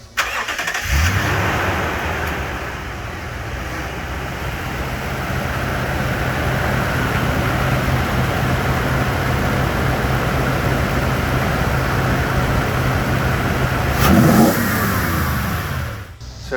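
A 2007-2011 Toyota Tundra fitted with a RedRock cold air intake cranks and fires up, then settles into a steady idle before one short rev near the end, close and loud with no talking.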